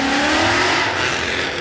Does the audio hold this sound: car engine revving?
yes